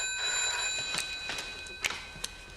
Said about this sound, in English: That phone will ring when...